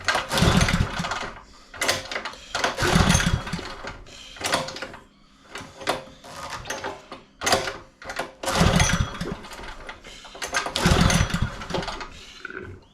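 A small engine on a Honda fire pump sputters and revs in uneven bursts, surging loud then dropping back, close by and rough-running.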